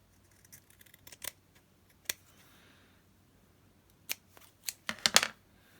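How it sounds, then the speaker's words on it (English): Scissors snipping fabric for a handmade journal cover, a scattering of quiet, sharp cuts in small clusters with pauses between, ending in a quick run of several snips. "So I'll just cut a little bit off there."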